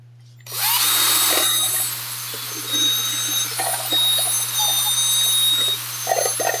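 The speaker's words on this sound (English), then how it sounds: "And that's it with a drill." A power drill mixes casting resin in cold shop conditions, starting abruptly and whirring steadily at close range with slight load changes as it stirs, alone without talk.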